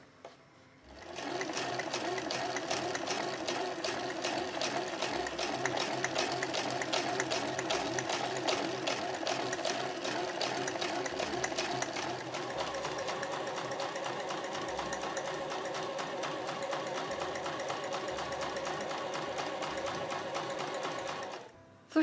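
A home sewing machine runs a long, steady stitching pass through heavy No. 8 canvas on a tall tote bag, a dense rapid needle rhythm holding close and even for about twenty seconds with brief pauses and faint low thumps.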